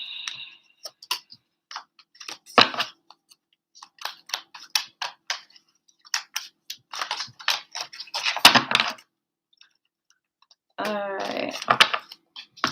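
Deck of animal wisdom cards being shuffled by hand, with bursts of quick riffling flutters and soft taps, close and fairly loud with quiet gaps between.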